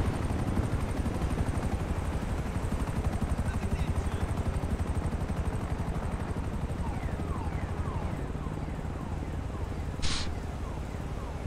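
A low-flying helicopter in a roleplay video game drones steadily with a dense rotor chop throughout, loud and close, with a brief high tone near the end.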